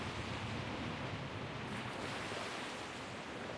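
Ocean surf breaking along a long, empty shore with wind blowing across it, a steady, full-bodied roar of water and gusting air that continues unbroken throughout, with no voices.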